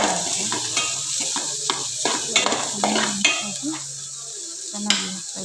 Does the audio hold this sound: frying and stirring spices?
yes